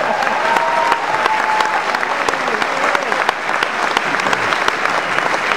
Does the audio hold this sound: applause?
yes